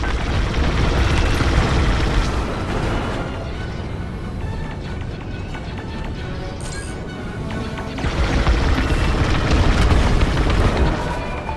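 Star Wars: Squadrons space battle explosion destroying a dish, a dense, loud rumbling blast with crashing debris that swells, eases briefly, then surges again.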